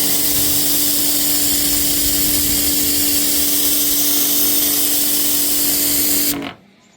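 A pressure washer blasts a water jet across a waxed car bonnet in a steady, loud, continuous roar with a constant hum, then cuts off abruptly near the end.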